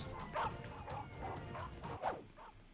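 Police dogs in the Roblox game Bad Cat, a string of small yipping barks repeating every half second or so, fairly faint and thin, with no voices over them.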